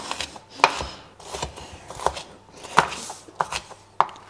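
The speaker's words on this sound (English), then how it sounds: "Just going to grab a little bit of a bigger knife here and dice that up a little bit smaller" A knife dices an onion on a cutting board in uneven, sharp chops, close and fairly loud, with short pauses between bursts.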